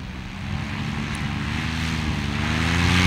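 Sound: paramotor engine in flight

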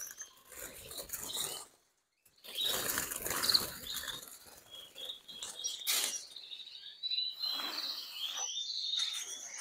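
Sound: agate canaries flapping wings while being caught in cage

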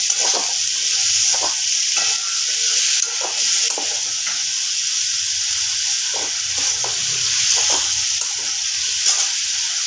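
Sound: stirring mixed vegetables with green chilli in a pan

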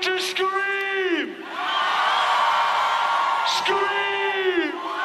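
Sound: concert crowd of women screaming

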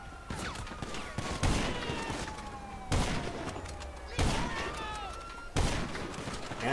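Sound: gunfire in GTA Online video game

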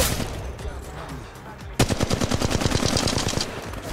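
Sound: gunfire in the video game Apex Legends Mobile

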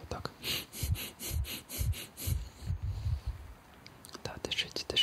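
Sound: fast deep breathing during a medical checkup

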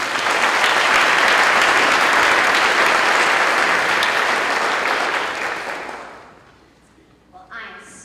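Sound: audience applause for the Florida Teacher of the Year

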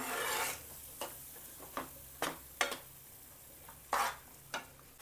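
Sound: masala paste being stirred in a pan on low gas

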